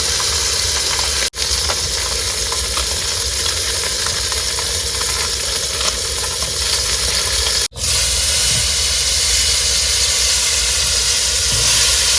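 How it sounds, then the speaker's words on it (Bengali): Fish frying in hot oil while cooking crab curry, a loud continuous sizzle and hiss with bubbling texture, briefly cut twice, steady and close throughout. "বন্ধুরা মাছ ভাজা কিন্তু হয়ে গেছে এবার কিন্তু মাছগুলো সব তুলে নেবো"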